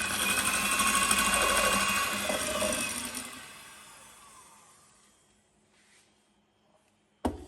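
An electric mixer whirs loudly while beating eggs with sugar and vanilla for a strawberry Swiss roll sponge, then cuts out after about three seconds and leaves near silence with a faint clack at the end.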